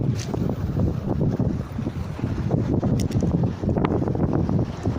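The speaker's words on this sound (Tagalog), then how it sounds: "malakas yung hangin" Strong wind gusts across the open sea during lure fishing from a boat, a loud, constant roar of wind buffeting the microphone, with water sloshing beneath and no pause throughout.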